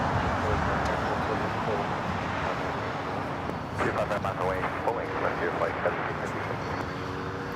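An EVA Air Boeing 777-300ER airliner arriving from Taipei, a broad steady engine roar that swells and rumbles, heard at a distance, with a voice talking partway through.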